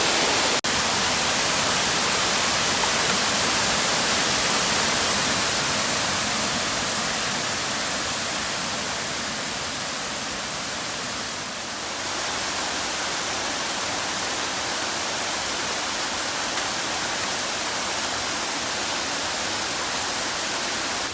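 A mountain waterfall roars steadily in a forest, a loud, dense rushing wash of water that holds constant throughout.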